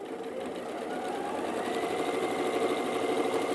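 A sewing machine runs steadily, stitching quilt fabric pieces in a chain with feed dogs pulling the layers along, giving a fast, even mechanical whir that holds close and alone throughout.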